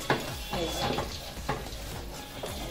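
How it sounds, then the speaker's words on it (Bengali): A pumpkin laddu mixture with milk being stirred in a pan, soft scraping and occasional light clinks of a utensil against the pan over a faint sizzle, close and fairly quiet. "এবার আমি এটা নেড়ে দেবো।"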